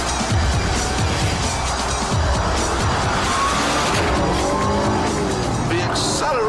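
A Ford GT supercar accelerating hard: a loud, dense engine roar with tire noise holds steady for the whole stretch, close up and continuous, with a brief higher squeal near the end and no voices.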